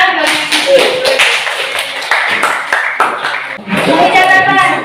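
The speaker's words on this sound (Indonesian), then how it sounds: "Kasih tepuk tangan buat" A classroom of students claps together in sustained, brisk applause during a math lesson, loud and close, with a few voices calling out over it.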